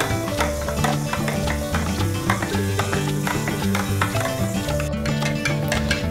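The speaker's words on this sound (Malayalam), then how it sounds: "ഇളക്കി കൊടുത്തു കഴിയുമ്പോൾ അതൊന്നായി മാറും. നന്നായിട്ട് ഇളക്കി കൊടുക്കണം." A beetroot squash mixture being stirred in a container, making a busy rhythmic scraping and tapping with clearly repeated strokes, loud and near, and no one speaks.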